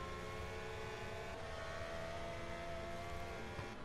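A Formula 1 style race car in the rFactor 2 racing game at the United States Grand Prix holds a steady engine drone with a whining tone, quiet and continuous, heard without any voices.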